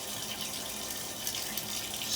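Water runs from a bathtub faucet into the tub in a steady, close, continuous rushing hiss that swells slightly at the end, with no voices.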